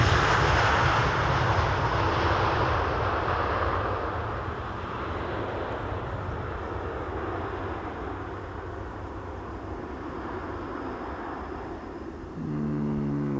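An Airbus A380 arrives on the Polderbaan runway at Amsterdam Schiphol, its engines a loud, broad jet roar that fades a little as it passes and stays steady, with no voices.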